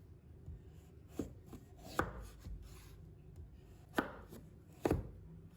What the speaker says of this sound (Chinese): 再把它切成长条